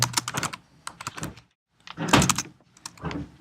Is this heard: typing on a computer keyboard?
yes